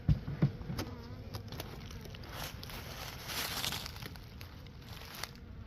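A soft, steady buzz of many honey bees hums close by at a hive being moved in February, with occasional rustling and handling noises over it.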